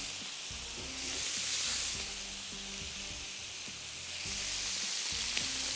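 Vegetables sizzle steadily in a hot pan on a stove over medium-high heat, a continuous bright frying hiss that swells and eases in waves, with low clattering underneath from the pan or utensils.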